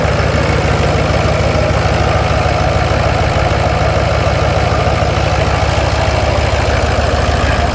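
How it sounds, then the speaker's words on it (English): An old farm truck engine runs steadily at idle with a worn serpentine belt whining, loud and continuous, close up with no voices. "It also needs a serpentine belt. That thing is whining at you like crazy"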